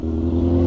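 A motorcycle engine runs steadily at low revs, a close, even, humming drone with a firm low rumble.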